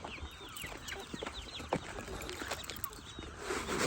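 Country hens clucking and scratching in a poultry yard, soft repeated clucks and rustling at moderate distance, with occasional sharp scratching sounds.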